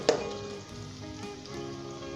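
Ginger-garlic paste frying over medium heat in a pan, a steady soft sizzle with a brief sharp crackle at the start, close and continuous with no talking.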